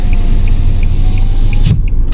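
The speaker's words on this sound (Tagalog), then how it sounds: "May bago kaming sasakyan." Cabin rumble of a car driving, heard from inside: a loud steady low road drone with faint regular ticking, cutting off abruptly near the end.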